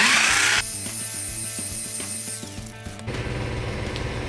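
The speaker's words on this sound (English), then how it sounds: "we're gonna hit it with that mixer to get everything incorporated" A drill mixer churns veneer stone mix in a bucket. After a brief loud start, a close mechanical whir with a rhythmic, grinding pulse continues, then settles into a steadier, louder hum near the end.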